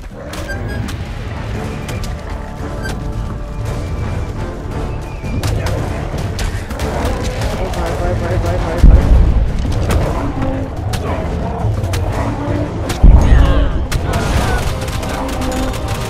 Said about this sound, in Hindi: भाई इतनी गोलियां शोलियां चल रही है ना